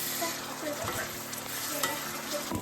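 Steady, close sizzling of aubergine frying in a pan until crispy and lightly golden, with faint crackles and the occasional scrape of stirring, no voices.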